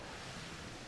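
Steady rushing water from a waterfall in the Hogwarts Legacy video game, a continuous broadband wash holding evenly for under a second with no voices over it.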